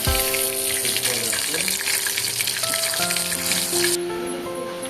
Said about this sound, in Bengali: এটাকে ভাজা হচ্ছে এই অবস্থায় লাল লাল করে